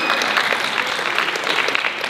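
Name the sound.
audience applause after student names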